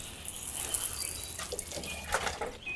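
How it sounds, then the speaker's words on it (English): Newly planted dahlia tubers being watered: a few seconds of close splashing and trickling water with bright, uneven spatters at moderate loudness. "I will give them a good watering once"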